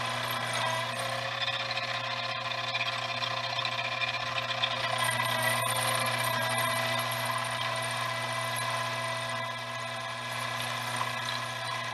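A lathe running at about 900 RPM hums steadily as it makes light boring cuts in aluminum with a boring bar, a smooth constant whine with a faint metallic hiss, no voices.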